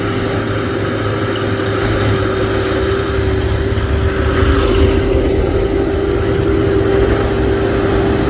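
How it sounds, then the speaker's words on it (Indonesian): A minibus drives past on a hilly road. Its engine drones loud and steady throughout, close by, with a constant hum and road roar and no voices. "Ada minibus"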